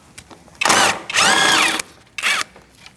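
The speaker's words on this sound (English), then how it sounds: "So I'm going to take out my bolt." A cordless power drill spins out a bolt on a 2008-2014 Mercedes-Benz C300 during engine cooling fan replacement, three close, whirring bursts of varying length separated by brief pauses.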